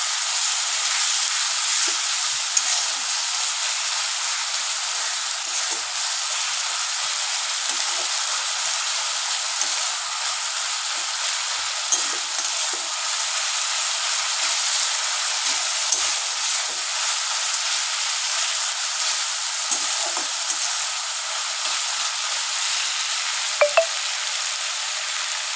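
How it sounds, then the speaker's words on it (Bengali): Ginger-garlic paste sizzling with mashed chicken in a pan, a steady broadband frying hiss running throughout with faint scattered scrapes of stirring and a brief clink near the end; no voices. "একসাথে ভাজতে থাকবে।"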